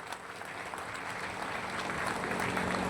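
Applause from a crowd at a political party meeting, steady clapping that builds slightly in volume, heard fairly faint and continuous with no talking over it.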